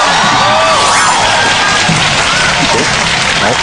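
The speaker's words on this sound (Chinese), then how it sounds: "我们掌声鼓励一下" Audience applause breaks out at a Chinese stage magic show, a dense, steady clapping from a full crowd with a few scattered shouts and whoops mixed in, loud and close throughout.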